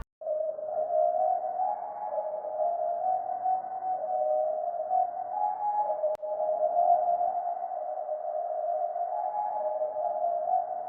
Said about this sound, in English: So we're gonna grab a fruity delay 2 and set the time to 4 and just turn it down a little bit